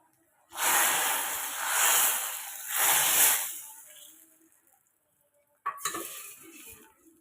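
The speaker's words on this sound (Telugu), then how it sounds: "పోపు వేసుకున్నాను." Tempering spices for rasam crackle and hiss in a hot pan in three loud, swelling bursts that fade away. A sudden stir or splash brings a final burst of sizzling.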